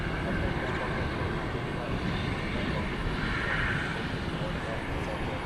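Broad, steady roar of an American Airlines Airbus A321 at night on runway 18L at DFW, a continuous low rumble with whining jet tone, heard at a distance with no breaks, while people talk faintly nearby.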